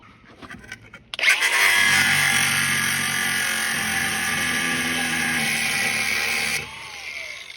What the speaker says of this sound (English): Get the grinder in there.